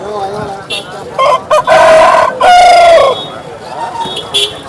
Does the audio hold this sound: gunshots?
no